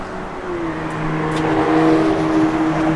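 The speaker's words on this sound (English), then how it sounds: "It's got a custom dual exhaust system on it." A 1976 Oldsmobile Cutlass Supreme with a custom dual exhaust, its engine holding a steady low rumble that swells slightly partway through, heard close and loud with no talk.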